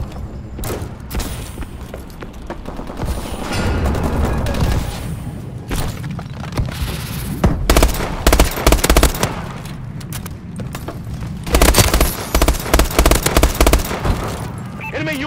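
Suppressive gunfire in a first-person shooter video game: sustained bursts of automatic weapon fire crackle and rattle, with heavy booming shots and explosions mixed in, loud and near, while a voice shouts over parts of it.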